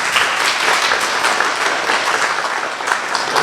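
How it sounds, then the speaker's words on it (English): An audience at a primary school award assembly claps steadily and densely throughout, a broad, even roar of many hands filling a hall. "Now you can give them a really big clap."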